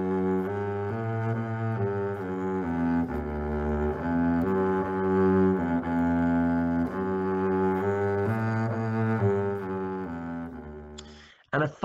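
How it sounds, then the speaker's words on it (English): A solo double bass bows a sustained Baroque-style line, deep and resonant, with steady connected notes for several seconds before a brief clatter at the end. "Another instrument in the Baroque era was the double bass."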